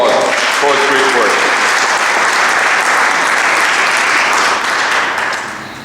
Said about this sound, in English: Please give him a round of applause for his great work.